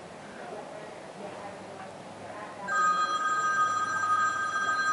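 A mobile phone starts ringing partway through, a steady electronic ringtone of sustained bright tones rising over a background of room noise at a historic homes museum.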